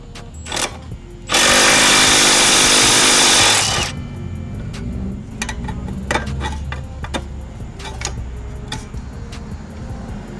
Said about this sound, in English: we'll need to remove this nut securing the e-brake cable with the 13mm socket